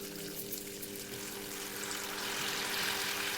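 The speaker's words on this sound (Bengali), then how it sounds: "মশলাটাকে আমি ভালো মতন করে কষিয়ে নেব" Spice paste frying in oil in a pan for a Bengali vegetarian parwal (pointed gourd) curry with yogurt and kasuri methi: a continuous, close hissing sizzle over a faint steady hum, growing slightly louder toward the end.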